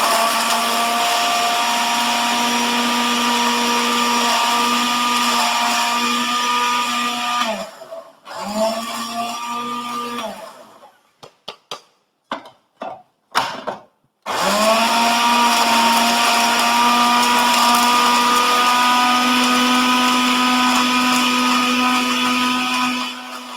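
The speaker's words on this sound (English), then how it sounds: "I'm going to blend it in a smooth paste with the aid of my blender." An electric blender whirs loudly as it purees food into a smooth paste for an Ogalole Niger Delta dish, running steadily, then pulsing in short bursts before running continuously again.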